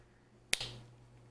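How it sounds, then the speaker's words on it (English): A single sharp finger snap, close and crisp, standing alone against a quiet room with a faint steady hum underneath. "I'm going to just snap my fingers"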